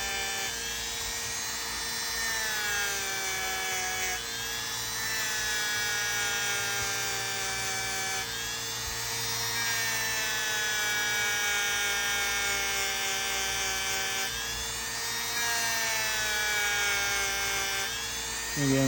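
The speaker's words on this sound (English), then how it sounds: "I just like the way that this metal brush head cleans those pins off real good." A rotary metal brush head spins against the pins of a Ka-Bar 1181 knife during cleanup, giving a steady, loud, high-pitched whine with a few brief dips in pitch, and no voices.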